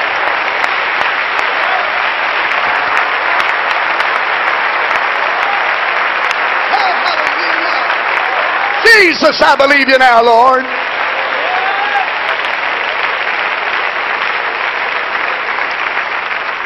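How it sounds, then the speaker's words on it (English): A church congregation gives a sustained round of applause in praise during a revival service, a dense, steady wash of hand clapping that runs the whole length, with a voice calling out briefly over it partway through. "give the Lord a great big hand clap of praise right now"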